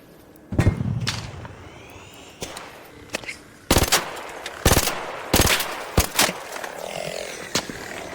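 Sharp sniper rifle shots ring out in the video game ARC Raiders, several loud isolated cracks spaced irregularly with brief tails, among quieter impacts and thumps, with no voices.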